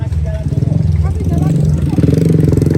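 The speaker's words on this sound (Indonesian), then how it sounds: "Masya Allah, motor lewat sini, Mas." A motorcycle rides along a mountain trail on Mount Papandayan that was damaged by a recent landslide, its engine a steady, loud, close pulsing drone throughout while people talk excitedly over it.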